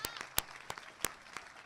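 Clapping from a commencement audience comes through as a short burst of scattered, moderately distant hand claps, irregularly spaced and fairly faint.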